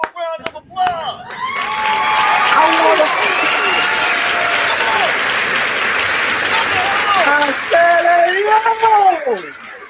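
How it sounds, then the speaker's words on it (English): Live talk-show audience breaks into loud, sustained applause with cheers and whistles to welcome a guest, filling nearly ten seconds before thinning out as voices come through near the end. "Let's give him a round of applause."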